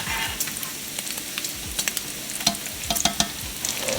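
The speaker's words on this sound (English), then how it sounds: "First thing I'm going to do is start my bacon." Bacon sizzling in a frying pan, a continuous crackling fizz with scattered sharp pops and spits, close by, with occasional scraping as it is stirred or turned, no voices.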